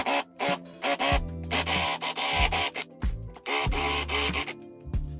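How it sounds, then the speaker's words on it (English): A power drill spins against stripped screws driven into a wooden 2x4, in repeated short whirring bursts with brief pauses between them, close and fairly loud with no voices. "I'm going to take a drill just to strip these a little bit more"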